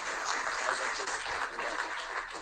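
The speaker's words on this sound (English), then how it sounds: "Round of applause again." An audience applauds at an NVIDIA AI Day event, steady clapping at a moderate, slightly distant level with no voices over it.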